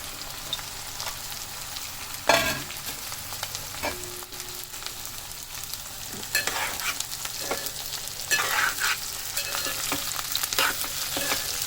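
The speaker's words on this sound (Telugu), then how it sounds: "క్యాబేజీ వేసుకుందాం." Cabbage frying in a pan while being stirred, giving a close, steady sizzle with scraping spatula strokes and a louder clatter early on, with no talking.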